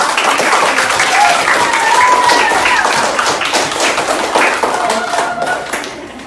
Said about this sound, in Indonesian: Kita beri aplaus yang meriah.